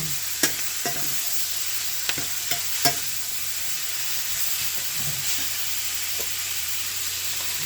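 Cabbage toasting in a big pan for fried cabbage with smoked sausage, giving a steady, close sizzle with scattered sharp clinks and scrapes of a utensil stirring, no voices.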